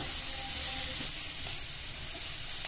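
Chopped garlic sautéing with onions in a pan for chowmein-style Maggi, a continuous soft hissing sizzle close by, steady and unbroken, with no voices.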